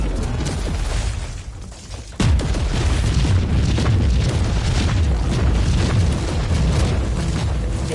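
A grenade detonates in the action game Warhammer Inquisitor with a sudden loud, close boom, followed by a sustained roar of rumbling debris and combat noise.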